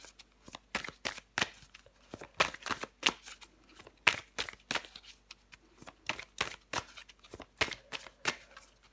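Tarot cards being shuffled, a quick run of crisp papery riffles and slaps in an irregular rhythm, close and clear with no talking.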